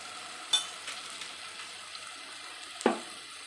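Garam masala sautéed in a pan while shrimp rice is being made, giving a low, steady sizzle with two sharp scraping clinks of a spoon against the pan.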